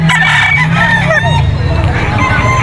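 Roosters crow at a busy Bocaue pet market in Bulacan, several overlapping calls rising and falling close by over a steady crowd murmur, with someone talking throughout.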